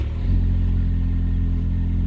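A truck engine fitted with a Stillen Trail exhaust revs up from idle into a deep, droning rumble, loud and close, holding steady without any talk.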